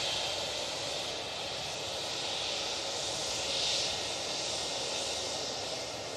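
A KLM Embraer E175 regional jet at Manchester Airport gives a steady, broad engine roar that holds evenly and swells slightly midway, with no voices.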